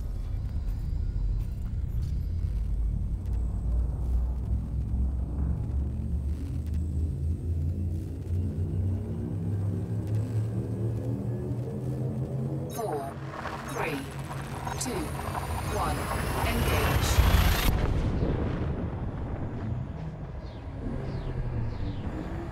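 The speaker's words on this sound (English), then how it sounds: "Fuel scoop disengaged. Frameshift drive charging." A ship's frame shift drive charging in the video game Elite Dangerous: a low rumble with rising layered tones that swells into a bright, loud surge before cutting back.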